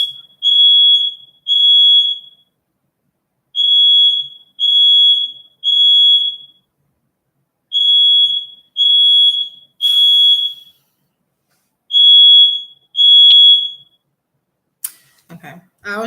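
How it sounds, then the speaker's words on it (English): A smoke alarm chirps in repeated high, piercing beeps, usually in pairs with short gaps, loud and close in a quiet room, ending with a brief rustle. "I was just waiting for that smoke alarm to shut up if I pause."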